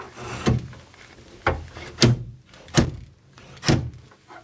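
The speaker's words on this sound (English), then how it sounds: "you give it a little tap, and you can hear it lock in" A bamboo dresser drawer is tapped shut and locks into its runners, giving four separate wooden thunks about a second apart, each sharp and close with a short rumble.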